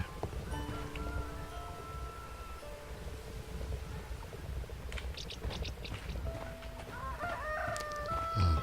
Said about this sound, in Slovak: Kohúti tu kikríkajú.